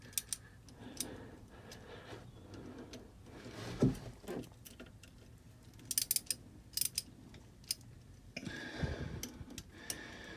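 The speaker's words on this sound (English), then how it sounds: "Get these loosened a little bit here. 8mm socket, like I mentioned." An 8mm socket ratchet loosens the bolts on the impeller cover of a Volvo Penta V6-240 marine engine, giving sparse, quiet clicking in short runs against a low background hum.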